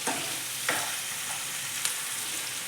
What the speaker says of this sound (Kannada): ಇದು ಎಣ್ಣೆಲ್ಲ ಫ್ರೈ ಆಗಬೇಕು